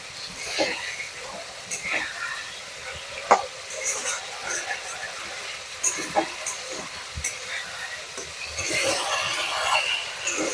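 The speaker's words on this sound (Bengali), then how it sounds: "মশলাটা একটু ভালো করে কষিয়ে নেব" Masala spice paste frying in a pan for catfish curry with potato and lentil dumplings, a soft steady sizzle broken by scattered clinks and stirring scrapes, with no talk.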